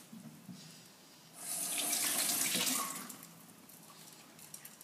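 A kitchen tap runs steadily for about a second and a half while a small yellow plum is washed under it, rising from near silence and fading back to faint room noise.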